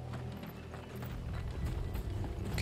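Horse hooves clip-clop in Final Fantasy XVI on PS5, a quick, close run of hoofbeats with faint mechanical clicks and low game ambience beneath, no speech.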